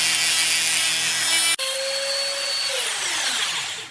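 A Neu Master 180W rotary tool fitted with a mill bit grinds into material with a loud, steady high-pitched whine, then its pitch drops and fades as the tool slows down.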